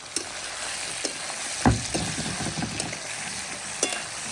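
Spicy mutton with plenty of red chillies is turned in a frying pan: a steady sizzle broken by a loud scraping clank midway and a few lighter spaced knocks of the spoon, close up.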